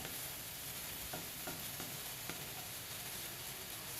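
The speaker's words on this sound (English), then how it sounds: "I'm adding green onion right now. And you're just going to cook that until you smell it." Green onion frying in a pan for grain-free fried rice, a steady soft sizzle with a few faint stirring clicks, close and fairly quiet throughout.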